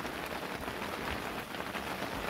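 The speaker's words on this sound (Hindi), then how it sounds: "सामने बारिश होने लगी है थोड़ी और तेज" Steady rain falls with a constant soft hiss, even and unbroken throughout, with no voices.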